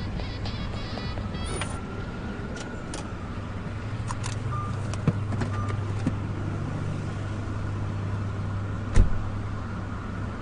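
A car engine drones steadily from inside a vehicle on the road, with traffic passing nearby, a few faint clicks and one brief louder knock near the end.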